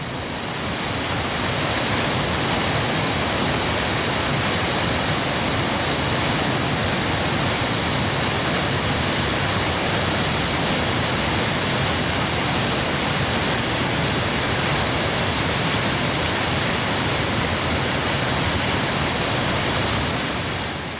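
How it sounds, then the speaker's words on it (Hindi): Dhancho waterfall on the Manimahesh Yatra route pours in a loud, constant broadband roar of rushing water, close and unbroken from start to finish. "आगे चलकर दर्शन होते हैं धनछो झरने के"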